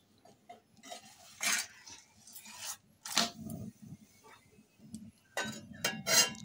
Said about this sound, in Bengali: তো ঢাকনাটা উঠিয়ে আমি পিঠাটা উল্টে দেব, কারণ অপর পিঠটা ভালোভাবে ভাজতে হবে